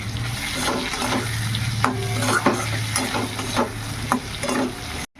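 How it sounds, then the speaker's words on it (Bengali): Turmeric and two green chilies spluttering and crackling in hot oil, a steady close sizzle with sharp pops and bursts, plus occasional stirring scrapes and a low hum underneath. "এই যে হলুদ, আর দুটো কাঁচা লঙ্কা ফাটিয়ে দিচ্ছি।"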